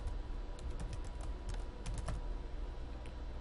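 A password is typed on a computer keyboard during retail store software setup: quick, irregular key clicks, close and crisp, with short bursts and pauses and no talking.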